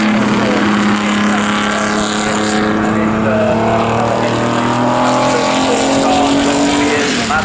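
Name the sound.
Maserati 250S historic Grand Prix race car passing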